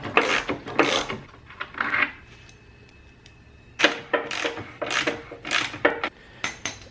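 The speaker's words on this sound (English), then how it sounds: "Now I'll take off this bolt, and that will release this flap from the mower." Metal clicks and ratcheting turns from a wrench loosening a bolt on the chute flap of a Scag V-Ride mower, coming in short close bursts with a quiet pause midway.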